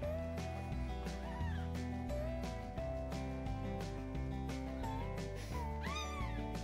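Tiny newborn kitten meowing, several thin, high rising cries heard over steady background music, fairly close.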